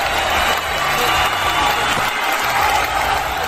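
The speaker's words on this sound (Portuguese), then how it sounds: "Aplausos, população aplaude." A crowd applauds and cheers after the first round of Theo Becker's boxing fight, a dense, steady wash of clapping that stays loud and unbroken throughout.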